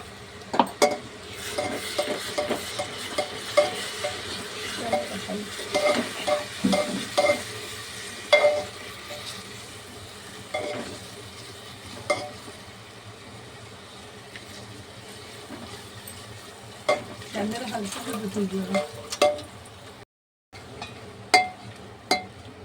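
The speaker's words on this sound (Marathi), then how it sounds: "आता ही पेस्ट मी याच्यामध्ये टाकते" A paste of green chili, coriander, garlic and ginger fries in a pan for corn pulao, a steady sizzle beneath frequent scraping stirs and clinks of a metal spoon against the pot, close and without voices.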